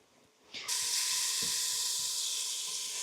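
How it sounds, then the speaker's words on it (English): After a soft start, food suddenly hits a hot pan and sizzles loudly and steadily, a bright continuous hiss with faint clinks underneath. "Sizzle, baby, sizzle."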